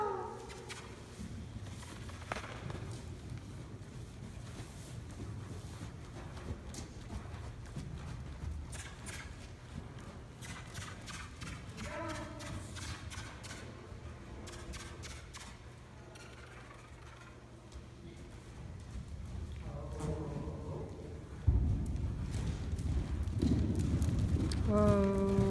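A big Irish sport horse cantering in an arena, its hooves giving a soft, rhythmic clip-clop that runs steadily at a moderate distance, with voices talking intermittently over it.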